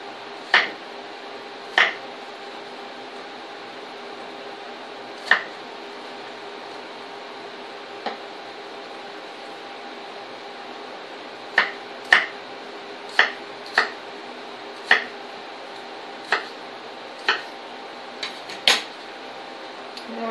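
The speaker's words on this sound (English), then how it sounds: "So I'm cutting these into like 1/2-inch cubes." A knife cuts Granny Smith apples into half-inch cubes on a board, making a dozen or so sharp, separate taps at irregular intervals over a faint steady background hum.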